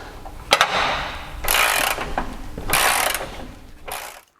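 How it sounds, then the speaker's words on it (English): Ratchet wrench with a 21mm socket working a lower control arm bolt on a Jeep Wrangler Rubicon, giving a few close, loud bursts of rapid clicking separated by short pauses, with no talk. "This is a 21mm socket, yet again, surprisingly loose."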